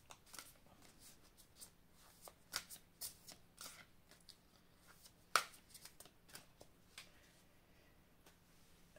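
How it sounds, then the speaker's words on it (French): Love language oracle cards shuffled and handled at close range, a quick run of soft riffling flicks and taps, faint and alone without talk. "Alors, je vais étaler les cartes."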